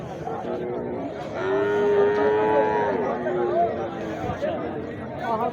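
A white-marked buffalo moos at a busy livestock market in Kharian, with one long, drawn-out low call near the middle, heard over steady crowd chatter and nearby talking.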